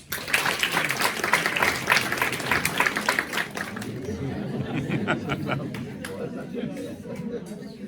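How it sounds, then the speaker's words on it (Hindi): An audience at a Hindi Divas celebration in Canberra applauds to welcome a performer, with steady clapping and crowd chatter over the first few seconds that thins into scattered claps and murmuring. "तालियों के साथ स्वागत कीजिए"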